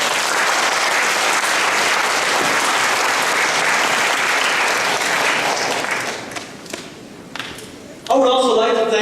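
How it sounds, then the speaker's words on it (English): Audience at a Made for China entrepreneurship competition applauds, a dense sustained wash of clapping that thins and breaks up near the end before a voice starts speaking. "Let's give a huge round of applause to our Made for China team."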